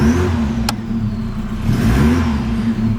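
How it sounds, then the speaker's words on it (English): A car engine running with a slipping alternator belt makes a steady, close mechanical hum with a faint underlying whine and a single sharp click early on. "it has a alternator belt slipping"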